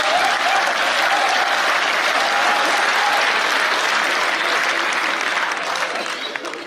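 A crowd at a Hindi comedy poetry gathering breaks into loud, sustained applause that holds steady, then begins to thin toward the end.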